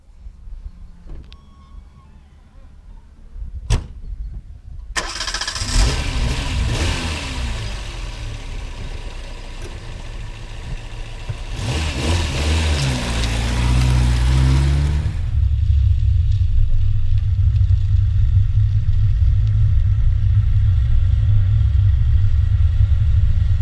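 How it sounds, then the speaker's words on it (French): A Simca 1307 S engine cranks and catches, then revs and settles into a steady, rumbling run that grows louder and stays constant. "Les moteurs Simca n'étaient pas réputés très silencieux."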